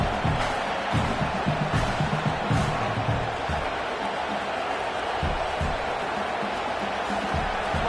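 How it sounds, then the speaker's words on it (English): A home crowd roars through a football game, a loud, steady wall of massed voices that rises and falls slightly and never breaks, heard from within the stadium. "how nice is it to have the home crowd going absolutely bananas?"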